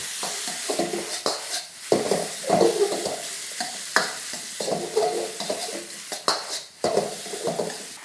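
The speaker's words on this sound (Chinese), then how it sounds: "我们再下这个，下回这个豆跟鸡蛋，然后这个黄梨也一起下完，炒一炒" Rice, beans, egg and pineapple stir-fried in a wok, with steady sizzling under repeated scraping and clanking of a spatula against the metal in an uneven rhythm.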